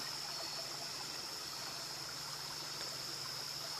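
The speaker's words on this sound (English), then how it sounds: "Just listen to the water." A woodland creek flows with a constant, even rush of water, close and unbroken, with no voices over it.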